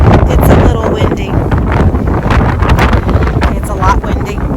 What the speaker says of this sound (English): It's a lot windy.